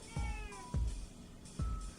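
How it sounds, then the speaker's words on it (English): A cat meows three times at a steady pace in a room, each cry short, fairly close and clear, with a falling, slightly wailing tone and no talking over it. "That's my cat in the background."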